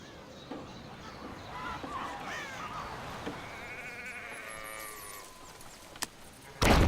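Sheep on a farm in the strategy game Anno 1701 give a few moderate bleats, wavering calls in the middle of the stretch over a steady game ambience, with a short click near the end.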